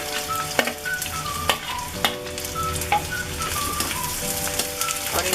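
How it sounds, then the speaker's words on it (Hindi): Onions and garlic frying in a pan, a steady close sizzle with occasional stirring clatters, with no talking over it. "और इनको हल्का सा भूनेंगे प्याज के।"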